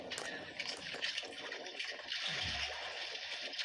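Sea waves rock a small fishing boat out on rough open water, a steady broad rush and slosh of water with a deeper surging swell building in the second half, continuous and fairly close.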